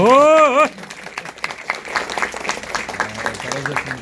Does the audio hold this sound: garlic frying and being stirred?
no